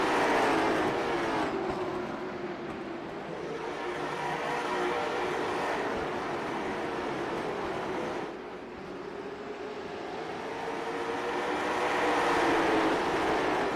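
Late model stock cars race in a pack at Oxford Plains Speedway, a loud, continuous engine roar swelling and easing as the field passes, with a brief dip midway before building again.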